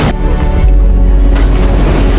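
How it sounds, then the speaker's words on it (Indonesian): Rebels blowing up a city dam, a loud deep boom that rolls into a sustained heavy rumble filling the whole moment. "mereka berhasil meledakkan bendungan yang menjadi pondasi kota tersebut"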